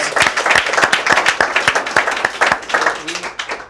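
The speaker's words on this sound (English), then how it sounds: "Chris a round of applause." A talk audience claps for a presenter named Chris, sharp individual hand claps standing out in a brisk, uneven burst of applause over about four seconds.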